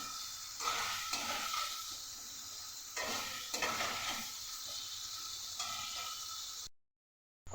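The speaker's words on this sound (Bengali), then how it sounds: "এবার একসাথে ভালো করে কষিয়ে নেব" Spices with turmeric and sugar stir-fried in a pan while making paratha accompaniments, a steady sizzle broken by repeated scraping strokes of a spoon against the pan, ending abruptly in silence.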